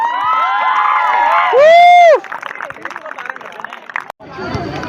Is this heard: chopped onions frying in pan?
no